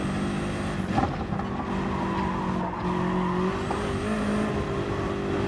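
Race car engine at full throttle with tire squeal and skidding in GT Sport on the Nürburgring Nordschleife, a sustained loud engine drone with shifting pitch and brief screeching tires, no talk.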